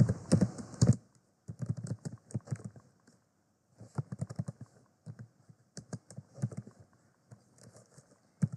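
Python code being typed on a computer keyboard, heard as fast runs of crisp, close key clicks broken by short pauses, with no voices.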